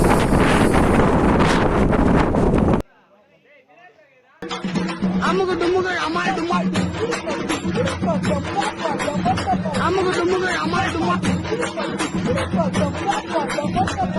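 Strong, cold night wind roars over a mountain at Paruvathamalai, buffeting the microphone in a steady loud rush, broken by a brief near-silent gap before the gusting resumes.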